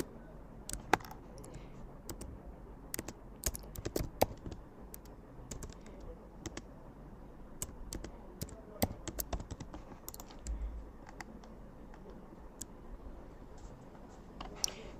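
Keys on a computer keyboard are typed and clicked in irregular bursts of sharp taps throughout, close to the microphone, while a person speaks quietly in the background.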